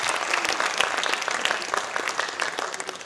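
A dense round of audience applause at a school farewell event at Doon International School Riverside Campus, with fast, bright clapping that carries on steadily for the whole stretch.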